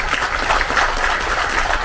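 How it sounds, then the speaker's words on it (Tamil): Steady, dense applause from a large audience at a Tamil film audio launch event, continuous and even throughout with no speech over it. "கண்டிப்பாக அதற்கு ஒரு பெரிய கைத்தட்டல் ஜெய் பேபிக்கு"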